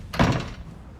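A door slams shut once with a single solid thump, close by and fairly loud, then a short fading room tail.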